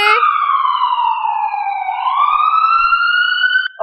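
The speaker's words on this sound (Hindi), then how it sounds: "इतने में ही घर पर एम्बुलेंस आ जाती है" An ambulance siren sounds loud and close as it pulls up to a house, a single clean electronic tone sweeping slowly down and then back up with no other sound.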